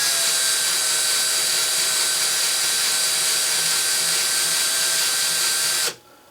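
Versamatic speed reducer mechanism running in reverse in a workshop, a loud, steady mechanical whine with a constant drone that holds level throughout, then cuts off abruptly near the end.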